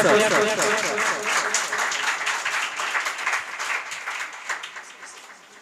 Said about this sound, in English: Please clap for sir.